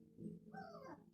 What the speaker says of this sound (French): le petit chiot qui pleure